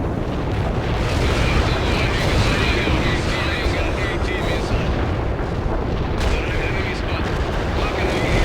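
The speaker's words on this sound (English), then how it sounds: "Artillery lined up. Firing." Artillery fire in the World in Conflict strategy game, a steady barrage of booming blasts and rumbling eruptions that fills the whole stretch at high volume, with no clear pauses.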